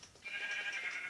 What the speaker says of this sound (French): Voilà, donc le mouton revient.